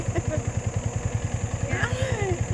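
A motorcycle engine idles steadily close by, its low pulsing exhaust beat repeating evenly throughout while a voice speaks over it during a beginner's riding lesson.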